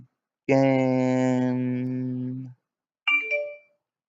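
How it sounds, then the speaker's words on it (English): A Twitter notification sound on a phone: a sustained tonal chime lasting about two seconds, followed by a shorter second tone, clear and close with no talk. "If I just got a Twitter notification"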